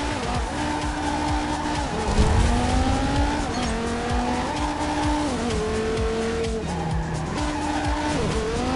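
A race car in the video game Ridge Racer Unbounded drifts with continuous loud tire squeal and a revving engine whose pitch climbs and drops through repeated gear shifts, steady and close throughout.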